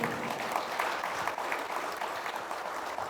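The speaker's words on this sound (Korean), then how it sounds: "큰 박수 한번 해주세요" Steady applause from an audience at a regional construction association's annual general meeting, dense and continuous for a few seconds at moderate level.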